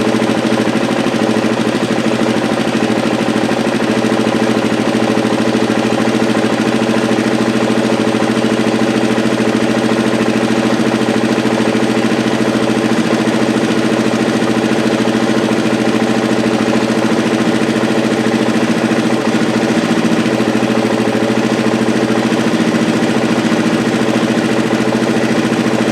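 A 1984 Honda ATC 200M three-wheeler engine idles steadily just after a carburetor rebuild, a loud, close, continuous mechanical drone with a slightly fast, even idle and no talk.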